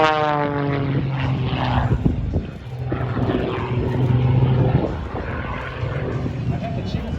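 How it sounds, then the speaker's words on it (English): An aerobatic propeller airplane performs at the 2021 Great State of Maine Airshow, its engine droning loudly and steadily with shifting pitch as it passes close to the ground, while a commentator talks over it. "I've had the chance to fly in a couple of these airplanes, much like Michael Wiskus has mentioned."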